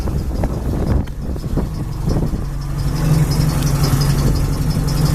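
A 1967 International Scout 800 engine with a Flowmaster exhaust runs close by with a deep, throaty rumble, settling into a steady idle with a low droning tone.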